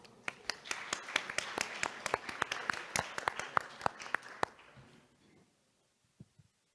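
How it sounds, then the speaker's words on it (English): A forum audience applauds with dense, crisp clapping that fades out after about five seconds, leaving near silence and a couple of last isolated claps. "Please join me in giving him a big round of applause."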